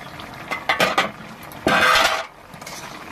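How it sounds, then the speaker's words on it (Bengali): A metal lid is lifted off a cooking pot, giving a few close clinks and scrapes, followed by a brief louder burst of clattering and steam. "আমি এবার ঢাকনাটা সরিয়ে দেবো"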